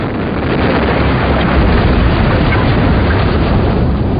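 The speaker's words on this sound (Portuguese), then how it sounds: "E isso é chamado de soldagem por explosão." An explosion-welding blast joining metal plates near historic windmills, heard as a loud, continuous roaring rumble with a broad noisy wash throughout, like a sustained blast and its aftermath.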